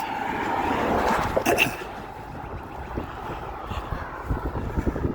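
Breezy wind gusts across an open hiking trail on Anthony's Nose high above the Hudson River, a steady roaring rush with a stronger buffet early on, heard close against the microphone.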